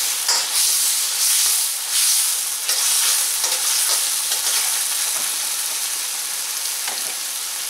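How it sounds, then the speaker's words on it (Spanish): Beef for Mexican-style tacos browning in a hot pan, a loud continuous sizzle and hiss with occasional scraping stirs, close up and alone without talk. "Vamos a dorar esto bien bien para que agarre todo su sabor."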